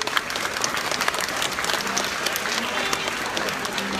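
Audience at a livestreamed opening event in a Dutch province clapping steadily, a dense even roar of applause from a sizable crowd, close and sustained with no talk over it.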